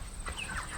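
Soft clucking of pasture-raised chickens resting in the shade over a steady low background hum, a few brief calls close by with no talking.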